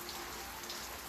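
Rain falls steadily in the survival game Last Day on Earth, a soft, even patter that fills a brief moment at low volume with no voices.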